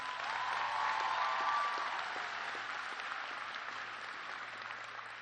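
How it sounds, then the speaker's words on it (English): Graduates at a 2024 high school graduation ceremony give their parents a round of applause: dense, sustained clapping from a large crowd that swells briefly and then holds steady for about five seconds. "Graduates, please give your parents a round of applause."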